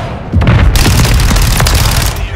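Flash grenades detonate in Modern Warfare II, a loud close boom followed by a sustained crackling, rumbling burst with sharp, gunfire-like pops over about two seconds.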